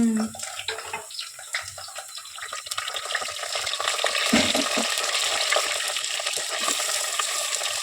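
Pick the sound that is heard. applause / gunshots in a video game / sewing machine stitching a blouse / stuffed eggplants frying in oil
stuffed eggplants frying in oil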